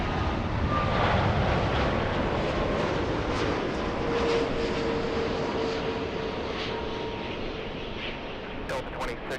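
A Lufthansa Boeing 787 airliner takes off at LAX, a loud broad roar of jet engines that slowly fades as it climbs away, with a faint whine running through it.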